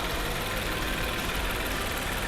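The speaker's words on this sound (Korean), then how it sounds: "엔진 소리 일정합니다" A Kia K9 3.3 T-GDI AWD engine idles close by with an even, unchanging hum and steady rumble for a couple of seconds, no voices.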